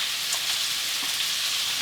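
Bacon fries in a pan with a steady, close, crackling sizzle and occasional small pops throughout.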